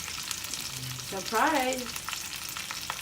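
An aromatic garnish of vegetables sautés in a pan for a pork roast Orloff, a steady close sizzle with a brief spoken word in the middle.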